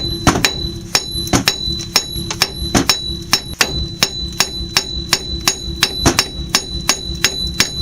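Heavy hammer blows pound steadily on the front wheel bearing of a Chevy Cavalier, sharp metallic ringing strikes repeating roughly twice a second, close and loud with no talking.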